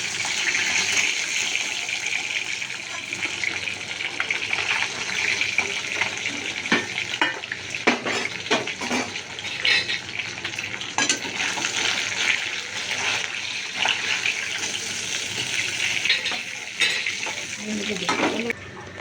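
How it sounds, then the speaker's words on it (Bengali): Steady, dense sizzling of bhola fish frying in hot oil, with occasional clinks and stirring noises of a utensil in a pan. "এবার আমি মাছটা ভাজছি।"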